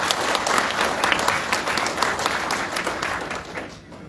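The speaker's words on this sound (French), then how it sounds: "je vous demande d'applaudir bien fort." Audience at a ceremony handing certificates and registration cards to fishermen claps loudly in a dense burst that thins and fades away near the end, with some crowd murmur underneath.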